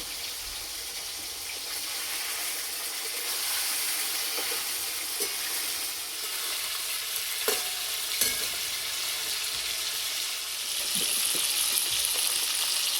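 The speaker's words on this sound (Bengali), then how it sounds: "আর মাংসটা ভাজাতে উনানে জালটা একটু জোরে দিতে হবে" Chicken pieces fry in a pan over a high flame, giving a steady, moderately loud sizzle with occasional sharp clacks of stirring scattered through it.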